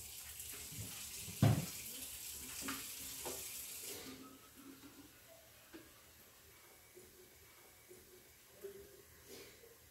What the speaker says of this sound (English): I'm adding some water to it.